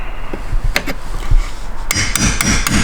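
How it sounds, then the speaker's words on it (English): Close, sharp metallic knocks of a hammer striking a punch to drive out an armrest part on a BMW E9X interior, irregular taps with scraping and handling noise between them. "I'm using a punch and a hammer. I'm just hammering this out this way"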